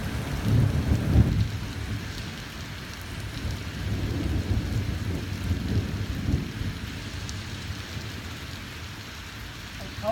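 A heavy thunderstorm over Halberstadt, with steady rain hissing and low rolling thunder rumbling in bursts, moderately distant, across ten seconds.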